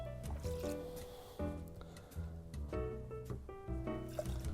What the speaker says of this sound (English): First thing that I need is 60 mils of a dry gin.